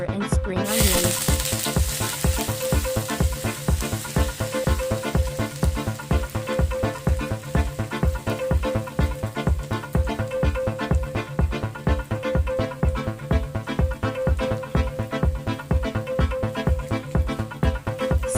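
Ginger and spring onions sizzle in hot oil after the flame is turned off, for Cantonese soy sauce chicken; a steady, loud hiss continues throughout with a rhythmic pulsing beneath it.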